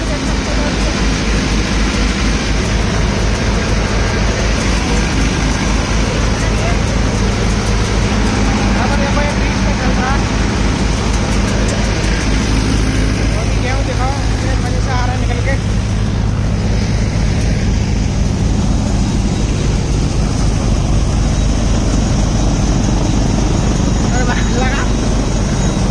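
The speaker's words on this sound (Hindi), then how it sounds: "ये देखते हैं दोस्तों, ये है सोनालिका 750। अब आप इसकी आवाज़ सुनो" A Sonalika DI 750 cutter thresher, an old model, runs with a loud, steady mechanical roar and a deep low rumble that stays constant the whole time. Someone talks over the noise.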